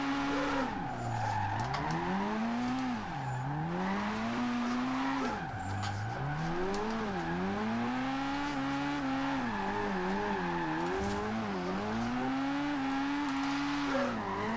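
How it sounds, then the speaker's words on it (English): A Nissan Silvia S15 drifts in the Forza Horizon 2 racing game, its engine revving up and down in long swooping sweeps while the tyres squeal and skid steadily underneath, loud and continuous with no talk. "So that slid quite nice through there."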